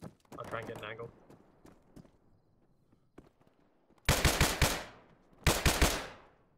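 Bursts of machine gun fire ring out in the military shooter game ARMA 3, two loud sustained volleys arriving in the latter half after quieter scattered shots and a brief voice earlier.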